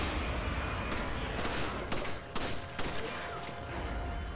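Gunfire in Resident Evil 5 as an enemy's left leg is shot, several sharp shots cracking over a dense, loud background of continuous game noise.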